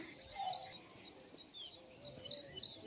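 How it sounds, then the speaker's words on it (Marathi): Sparrows chirp and pigeons coo softly in the morning at a village home where they come to eat rice and sorghum, with faint, scattered tweets over a quiet, rustling background. "चिमण्याचं किलबलाट चिमण्या आणि कबूतराचं किलबलाट"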